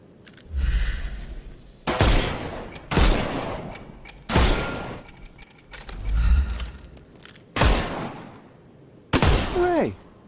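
Gunfire in the Sherlock Holmes: Chapter One game as enemies' armour is shot off, a series of about eight loud, separate bursts spaced roughly a second apart, each followed by a short rumbling decay.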